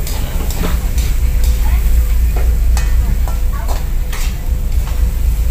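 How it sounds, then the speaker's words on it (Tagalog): A spoon scrapes rhythmically through corned beef (karne norte) frying in a pan, sharp stirring clatters repeating over a steady close sizzle. "Mix natin ng maayos guys."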